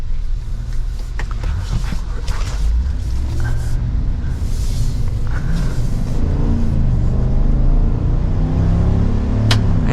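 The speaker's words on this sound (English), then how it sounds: "And it definitely sounds good too for that V8." A 2024 Chevrolet Silverado 1500 ZR2 V8 rumbles with a deep, loud engine note, holding a steady low growl throughout with a few faint clicks and a brief sharp tick near the end.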